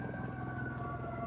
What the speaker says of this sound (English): I mean a fire truck. And an ambulance.